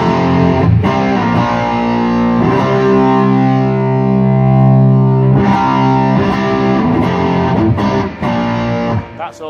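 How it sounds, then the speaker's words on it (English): Electric guitar played through an overdriven tube amp with no drive pedals, a loud, thick distorted tone of sustained chords and riffs, close and continuous with no talk. "That is how much gain, how much overdrive the amp is giving us."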